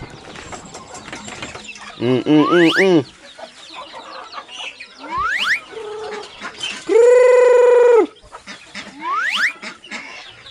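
Chicks peep in quick rising chirps amid clucking fowl nearby, with one long, loud call in the middle.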